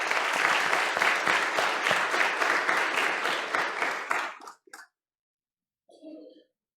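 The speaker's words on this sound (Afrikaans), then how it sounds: "kom ons gee vir pa en ma 'n groot hande klap" A church congregation applauds parents during a Sunday confirmation service, a dense, lively burst of clapping that runs for about four seconds and then stops abruptly, followed by a brief murmur.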